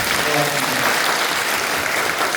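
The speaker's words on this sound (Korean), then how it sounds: "우리 성산대교구 경의하며 박수 한번 해주시죠." A church congregation claps together loudly for a district choir, a full, even roar of applause with a brief voice over the start, continuing steadily throughout.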